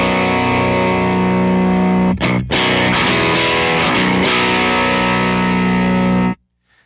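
A Danelectro baritone guitar runs through a Konstante fuzz pedal from Twilight Pulse Audioworks, giving a loud, thick distorted tone. A sustained chord opens, then a brief break, strummed hits and a ringing chord cut off abruptly near the end, with no talking.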